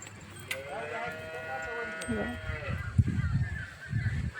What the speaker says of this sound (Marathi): इकडे आपली शेळी आहे